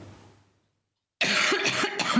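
A single sharp cough bursts out after a moment of near silence, close and loud, with a rough, throaty texture.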